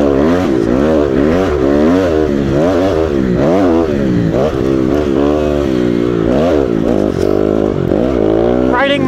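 A 2019 Honda CRF250R dirt bike is ridden on dirt terrain near Murphy, Idaho, its engine loud and close, revving up and down continuously in rising and falling surges.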